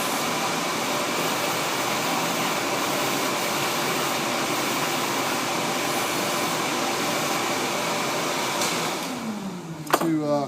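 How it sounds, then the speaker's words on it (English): A shop vac runs steadily close by while clearing a freshly drilled hole in a cast aluminum intake manifold, a loud continuous airy roar that shifts in pitch and rattles toward the end. "I'm using my shop vac."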